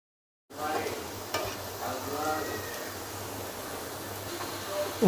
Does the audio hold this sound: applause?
no